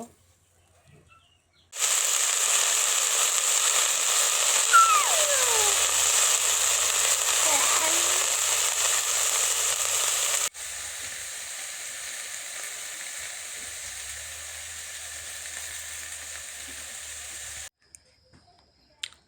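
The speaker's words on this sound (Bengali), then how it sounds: "শুকনো মরিচ, কাঁচা মরিচ, রসুন আমি দিয়ে দিছি। এগুলো এখন ভালো করে ভেজে নিব।" Garlic, onion, dried red chillies and green chillies sizzle steadily in hot oil, a loud continuous frying hiss that drops to a quieter sizzle partway through and then cuts off, with no talk.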